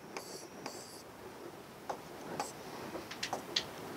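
Marker or chalk writes on a board during a calculus lesson, with a few faint scratches and short strokes and scattered small ticks over a quiet, hissy room, no talking.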